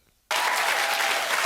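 After a brief hush, an audience bursts into loud, sustained applause that continues evenly.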